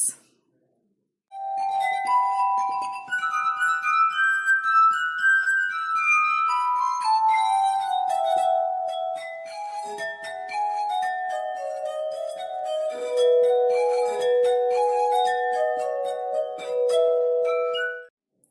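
A glass instrument plays a slow, ringing melody of pure, bell-like tones that glide from note to note, sustained and clear with no talking.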